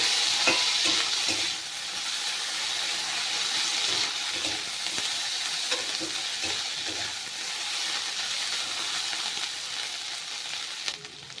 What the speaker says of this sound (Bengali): আদা বাটাটা বেশ ভালো করে মিশিয়ে নেব